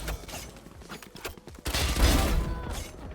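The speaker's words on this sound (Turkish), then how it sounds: "leş gibi mermi attık arkadaşlar" Gunfire from the game Valorant comes in quick bursts, with a few light clicks early on and then a dense, loud volley around the middle, fading back a little after.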